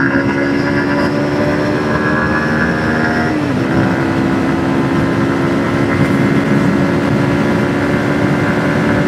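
A Yamaha MT-15 motorcycle accelerates hard from 0 to 100, engine revving loudly and continuously near the rider, with a gear shift at 10,000 RPM audible as a brief dip in pitch midway.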